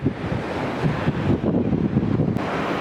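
Strong wind gusts across an exposed seaside cliff at Aazhimala on a hot day, making a loud, steady roar and buffeting with a faint wash of surf beneath and no talking.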